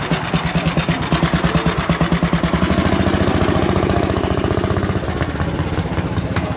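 A rare 1924 vintage car of a now-defunct make runs its engine at a retro car gathering, a loud close chugging with a steady rhythmic beat that quickens and smooths slightly as it continues.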